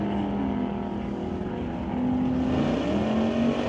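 A Chevrolet Chevy II Super Pro drag race car, deep staged at the line and running on a throttle stop, holds a loud, steady engine drone that steps up slightly in pitch about halfway through.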